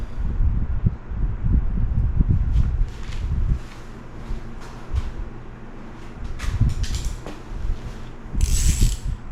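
A ratchet tightens the carburetor bowl on a power washer, giving repeated close clicking strokes in short bursts with handling noise and pauses between them.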